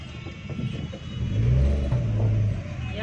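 A car engine idles and revs in a parking area at Sadar Bazar market, a steady low rumble that swells in the middle, close by and continuous with no talk.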